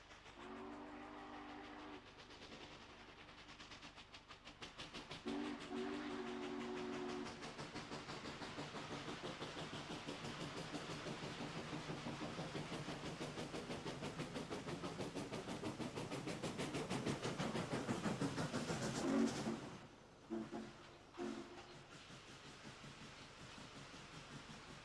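Steam locomotive 611 climbs a grade with heavy, continuous chuffing exhaust, rail clatter and a rising roar of effort, loud and close, building to a peak near the end before dropping away abruptly.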